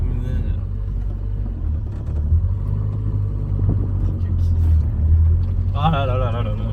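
A Renault 4L fitted with a swapped Renault 5 1400 engine idles with a steady low rumble and slight surges, heard close, with people talking over it.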